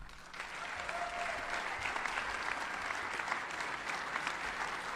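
A hall of fame induction banquet crowd gives sustained applause for the 1999 boys track and field team, a steady, even mass of clapping throughout, moderately distant in the room.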